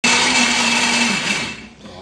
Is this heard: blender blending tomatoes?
yes